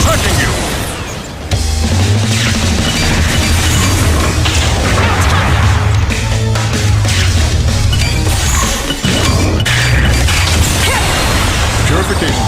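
Enemy missile explosions boom and crash continuously in the video game Liberation Maiden, loud and dense, with whooshing bursts layered under game voices.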